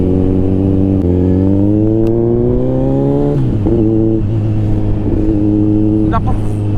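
Engine of a vehicle on a group motorcycle and car unity ride along Marilaque, a loud close drone rising in pitch through the gears, then dropping and holding steady.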